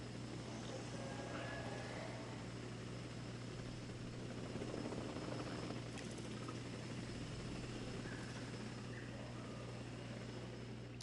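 Helicopters transporting dinosaurs in the video game Jurassic World Evolution 2, a steady whirring rotor drone with a low engine hum that holds throughout, moderately close and alone.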